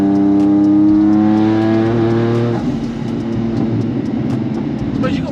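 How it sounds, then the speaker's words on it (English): An 1100bhp Nissan Navara pickup with an R35 GTR engine pulls hard, its engine note rising in a loud climbing tone before dropping into a rougher rumble, with speech heard over it. "It's a bit of a weird sensation being in a pickup truck that accelerates like that,"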